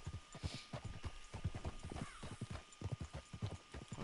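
Horse hooves clip-clop in a steady walking rhythm on a road in Red Dead Redemption 2, quiet and continuous, with occasional soft whinny-like tones and game ambience underneath.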